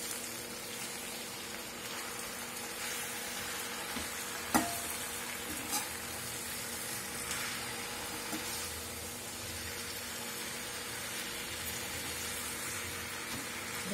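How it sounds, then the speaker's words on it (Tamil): Sukkan keerai greens sauté in a pan, giving a continuous soft sizzle and hiss with a few faint clicks of stirring, steady and close with no talk. "இப்போ பாருங்க சுக்காங்கிரி நல்லா வதங்கிட்டு இருக்கு"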